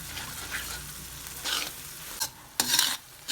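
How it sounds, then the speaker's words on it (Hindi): Four eggs being stirred into a sizzling frying mixture for Lahori anda tikki, a steady close scraping stir over hot oil with louder bursts of frying toward the end. "ये मैंने 4 अंडे इसमें शामिल किए हैं। अब इसको हम अच्छे तरीके से इसमें शामिल करेंगे।"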